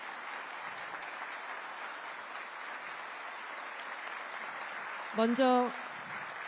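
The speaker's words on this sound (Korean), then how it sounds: "모두 큰 박수로 환영해 주시기 바랍니다" Steady, fairly distant applause from an audience welcoming the president at a government briefing, with a short spoken word near the end over the clapping.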